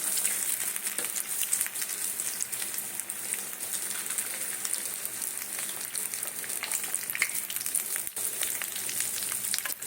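Fish cutlets frying in hot oil, a continuous dense crackling sizzle that holds steady and close for the whole stretch, with a faint clack or two of a utensil and no speech.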